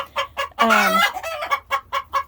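Backyard hens cluck in a close, repeating rhythm of short calls, with one longer, louder drawn-out squawk near the start, heard alone near a chicken coop.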